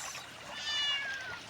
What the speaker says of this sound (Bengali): ওখানে বিড়াল কাঁদছে